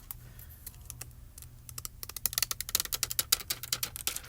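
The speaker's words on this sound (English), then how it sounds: "And I'm going to peel the bottom backing up." Adhesive bottom backing is peeled off a toner foil sheet over cardstock, making a dense crackling, rapid ticking that grows louder and busier as the peel continues, close up and with no talking.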